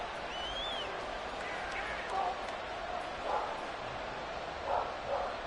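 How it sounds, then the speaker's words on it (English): A dog barks in the background outside a window, several faint, short barks scattered over a steady murmur of sports video game commentary and crowd noise. "This fucking dog in the background."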